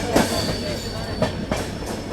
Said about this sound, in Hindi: अभी आपके सामने जा रही है 22996 मंडोर सुपरफास्ट